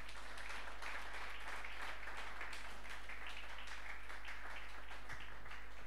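A church congregation at a Sunday service applauds with a dense, sustained patter of many hands clapping at moderate distance, over a constant low electrical hum.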